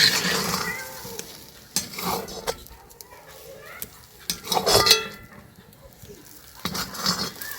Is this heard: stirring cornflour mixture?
yes